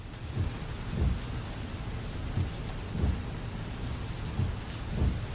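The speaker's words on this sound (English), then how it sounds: "X-Plane is so nice when it comes to rain effects." Rain and thunder effects in the X-Plane flight simulator aboard a Boeing 757-300: a steady hiss of rain with low thunder rumbles rolling in at regular intervals, fairly loud, no talking.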